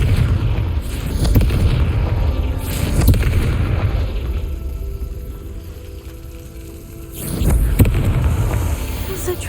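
Fiery Confringo spell blasts in Hogwarts Legacy on PS5, several loud booming bursts around the start, middle and near the end, over continuous rumbling game ambience.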